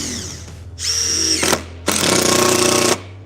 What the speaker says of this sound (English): Can I drive screws or no? Yes, we have screws.